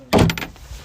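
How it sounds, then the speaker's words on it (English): A front door closing at home, one loud close thud with a short rattling tail fading into a quiet room, no voices. "it's the sound of my front door"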